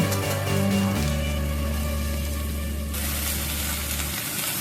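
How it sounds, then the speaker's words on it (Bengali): Onion and seven or eight crushed garlic cloves frying in oil, a continuous sizzling hiss under a low droning hum, growing brighter partway through. "একটু পেঁয়াজটা একটু ভাজা করে নিচ্ছি।"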